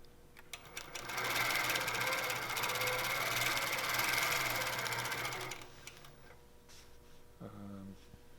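An Innova longarm quilting machine stitches in a rapid, even mechanical run for several seconds, then stops, leaving a quiet room with faint handling sounds.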